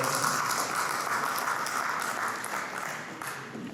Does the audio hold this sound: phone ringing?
no